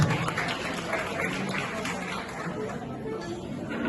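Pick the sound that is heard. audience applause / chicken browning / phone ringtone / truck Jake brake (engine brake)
audience applause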